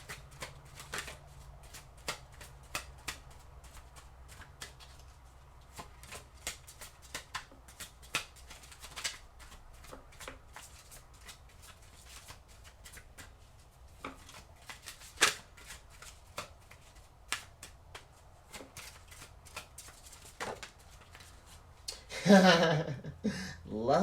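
Soft shuffling of a deck of oracle cards, a faint run of small riffles and taps that goes on steadily and ends in a louder flurry, with talking heard here and there.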